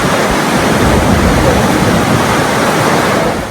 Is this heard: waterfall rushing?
yes